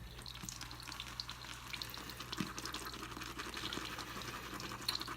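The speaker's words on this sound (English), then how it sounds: "we're getting a very thick brush full of lather" A shaving brush whips CBL soap into a thick lather in a bowl, giving a continuous wet, squelching swish with small bubbly crackles throughout, fairly close and steady, with no talking.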